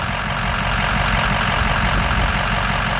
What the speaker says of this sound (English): But the motor sounds great.